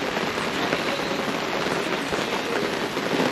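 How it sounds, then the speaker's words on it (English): Steady rain falling at a riverside campsite, a dense, even hiss of drops on surfaces, close and constant throughout with no voices. "Right, it's still raining, but I am going to soldier on."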